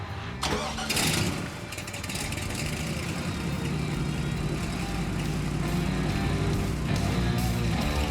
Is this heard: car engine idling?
yes